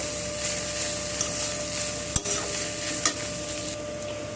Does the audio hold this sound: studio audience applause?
no